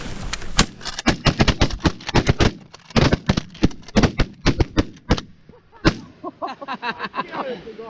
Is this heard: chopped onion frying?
no